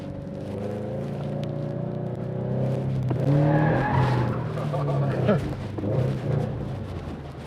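A drifting car accelerates around a cone with tires squealing, the engine rising and the skid growing loud and close in the middle, while someone talks over it.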